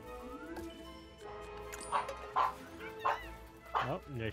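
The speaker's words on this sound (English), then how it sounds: "She goes again, starting barking." A dog barks and yips in the background of a room, a few sharp high barks and whimpers spaced a second or so apart, rising over a steady bed of game sound.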